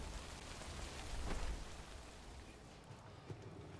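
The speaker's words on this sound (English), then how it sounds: "The rain over there." Rain falls steadily in the video game Death Stranding: a soft, distant wash of drops with a brief swell partway through.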